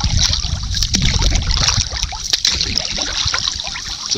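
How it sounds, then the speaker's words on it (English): Canoe oar dipping into calm lake water during a wilderness paddle, soft repeated trickles and small splashes up close, steady and gentle with no talking. "The soothing sound of an oar going into the water."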